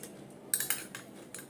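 A spoon mixing fried chana dal with fried peanuts and cashews in a metal bowl, producing a few quiet, sharp clinks and scrapes spaced irregularly over soft background hush.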